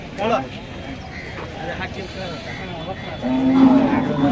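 A bull lows at a busy cattle market in Chalisgaon, a low drawn-out moo rising near the end over steady crowd noise and a man's sales chatter.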